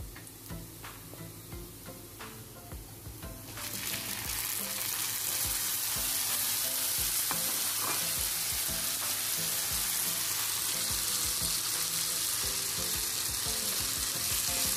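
Tomatoes drop into a hot pan and fry, the sizzle swelling to a loud, steady hiss with scattered stirring clicks, alone without talk.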